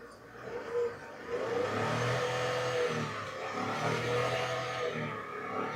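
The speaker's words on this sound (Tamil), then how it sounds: "நம்ம கொஞ்சம் ஐடல் ஆக்சலரேட் பண்ணி பார்ப்போம்." A Tata Punch base-model compact car is revved from idle, its engine rising to a steady, smooth hum that holds and then eases back slightly, heard close with no talk.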